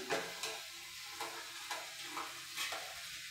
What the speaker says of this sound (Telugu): పప్పు తాలింపు కూడా కలిపేసుకుంటున్నాను ఫ్రెండ్స్